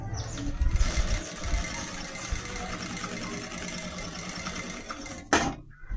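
A sewing machine runs continuously, topstitching a seam around the edge of a clear plastic toothbrush case, a steady close mechanical whir with a brief louder clack near the end.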